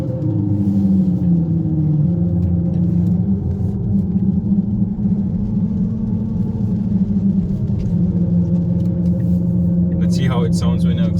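A deep, steady simulated Maserati engine rumble from an electric car's active exhaust speakers holds a low idle-like drone, loud and close, with a brief burst of higher noise near the end.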